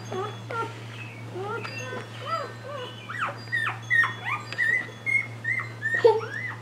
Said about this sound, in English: I guess my puppy is squeaking.